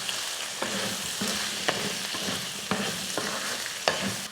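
Potato fry with sambar powder in oil being stirred in a pan: a steady sizzle under repeated scraping strokes of a spoon, roughly one every half second, close and moderately loud.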